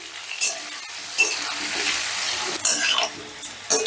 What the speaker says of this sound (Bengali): নুন আর হলুদ দিয়ে আলুটাকেও বেশ লাল লাল করে ভেজে নেব